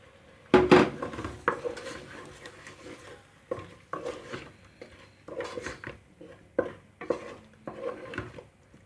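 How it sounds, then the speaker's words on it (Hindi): Chicken pieces go into a cooking pot for chana chicken with a run of close clattering knocks and scrapes of utensil against metal, spaced irregularly. "इसमें डाल देंगे चिकन।"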